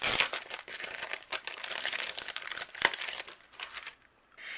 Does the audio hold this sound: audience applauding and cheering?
no